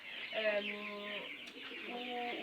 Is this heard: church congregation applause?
no